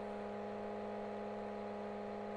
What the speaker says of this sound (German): Irgendwas brummt auch, ist das der Lambo, der noch läuft.